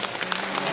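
A brief burst of dense, steady audience clapping in a philharmonic concert hall during a televised talent show, with no voices heard over it.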